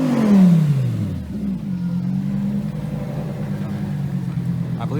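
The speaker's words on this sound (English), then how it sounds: "I believe that's a Krapovich exhaust that's fitted to that Huracan STO." A Lamborghini Huracan STO fitted with an Akrapovic exhaust revs up loudly nearby, then its engine note falls and settles into a steady, throbbing idle that carries on alone.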